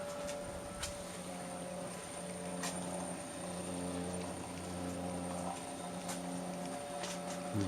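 Electric motor of a 2x72 belt grinder, driven by a Mitsubishi D700 inverter at its slowest speed, hums steadily with a low tonal drone and faint whine, continuous and unchanging throughout.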